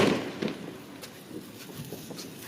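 Firecrackers pop in a few faint, scattered bursts, the loudest right at the start, then small cracks fading into distant background noise.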